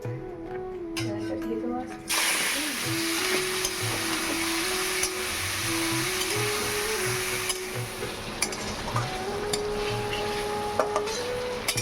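Marinated chicken pieces sizzle steadily in a pan with hissing oil and occasional scrapes of stirring, while someone talks over the cooking.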